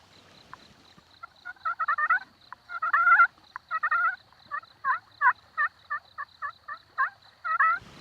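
Wild turkey gobbling repeatedly during a Missouri hunt, a long series of rattling gobble bursts at a moderate distance, some run together and others spaced evenly, with a steady high whine underneath and no talk.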